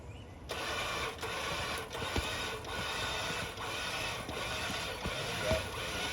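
A Warn EVO 10s 10,000 pound winch pulls tree roots out of the ground, giving a steady mechanical whir broken by short clicks and knocks, fairly faint and continuous.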